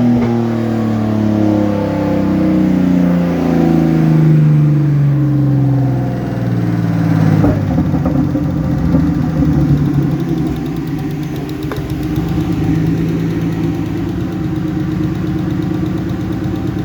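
A car running on a dynamometer, its engine droning loud and steady with a rising rev and a sharp knock near the middle, continuous throughout with no talk.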